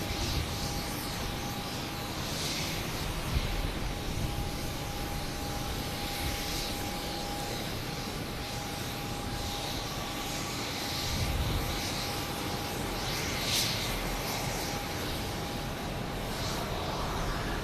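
A Spirit Airbus A321neo lining up at Boston Logan Airport gives a steady, moderately distant jet engine drone with a faint constant whine and soft rising swells, no voices.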